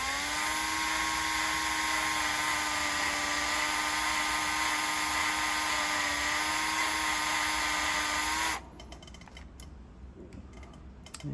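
Drill bit boring out a broken hardened class 12 bolt in a 1984 Porsche 911 engine block, a steady high-pitched whine lasting about eight seconds before cutting off to quieter clicks and handling noise.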